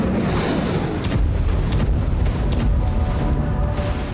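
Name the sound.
Russian aerial bombardment explosions on Kharkiv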